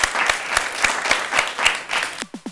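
A television studio audience on a Malayalam entertainment show breaks into lively applause, rhythmic clapping that rises and falls and then thins to a few separate, sharp claps at the end.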